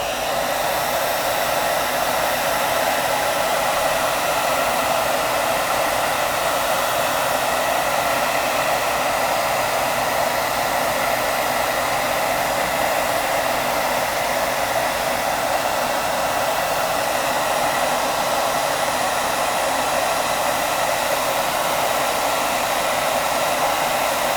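Heat gun or hair dryer blowing hot air onto a price sticker on a book to loosen it; an unbroken, close, loud whooshing fan noise holding steady for the whole stretch.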